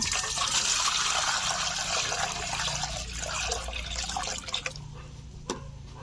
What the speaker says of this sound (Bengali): ঝুড়িতে তুলে নিয়েছি, এখন ধুয়ে নিচ্ছি।